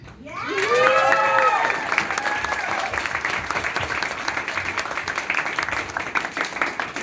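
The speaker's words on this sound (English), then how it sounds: "I just, first of all, want to give a round of applause to The Cleaning Lady." Audience at a screening event for The Cleaning Lady applauding and cheering loudly, with a voice sustaining a call over the start before steady clapping continues throughout.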